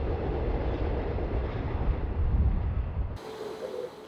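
Riding on a train, a steady loud rumble of wheels and carriage noise rolling on without a break, cutting off abruptly near the end to a quieter hum.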